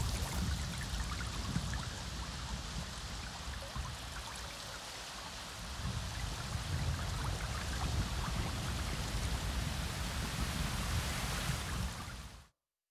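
Rain falling in the game Avatar: Frontiers of Pandora: a steady, even wash of rainfall with a soft patter that grows slightly heavier midway, continuous and alone, then cutting off abruptly at the end.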